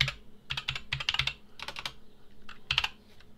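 Typing on a computer keyboard: irregular bursts of clicky keystrokes in several short runs with brief pauses, fairly close and alone without talk.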